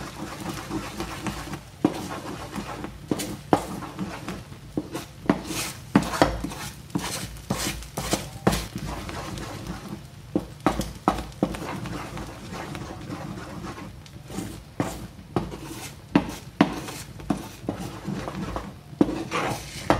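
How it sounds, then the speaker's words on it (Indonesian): A hard spatula scrapes and clatters against a metal wok while stirring mung bean filling for mooncakes, in quick, irregular strokes, with sharp metallic knocks throughout. "kalau bisa pakai ininya, spatulanya yang keras, jadi lebih mantap ngaduknya"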